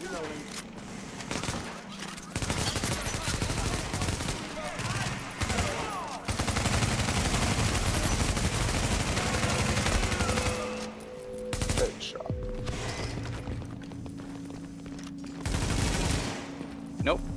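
Turret gunfire in The Division video game, a dense automatic fusillade rattling loudly through most of the stretch with brief gaps, mixed with other weapon fire and game effects while players talk over it.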